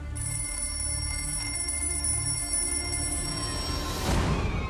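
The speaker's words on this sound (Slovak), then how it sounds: "Prvá, zazvoní telefón." A telephone bell rings in repeated short bursts, loud and close, with a steady tonal hum beneath and a brief swelling noise at the end.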